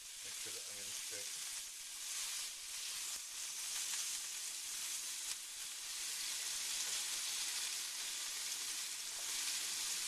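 Small burger patties with onions fry in a square frying pan, a steady broad sizzle that hisses continuously at close range, with a few faint clinks and a brief low voice early on.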